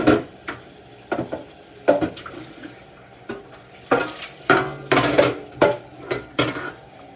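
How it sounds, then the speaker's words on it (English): A dish being rinsed and handled in a home kitchen while cooking fresh cream style corn, with sharp clinks and clatters of crockery and utensils arriving in irregular bursts and light water sounds underneath. "I'm just rinsing off my other dish here, getting it out of the way."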